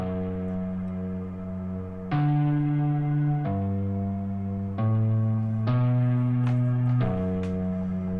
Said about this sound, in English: I made a little guitar melody